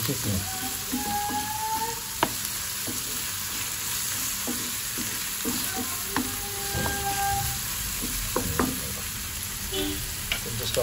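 Onion and garlic frying in a pan on a stove at medium flame, a dense continuous sizzle with frequent spatula scrapes and clicks, close and fairly loud.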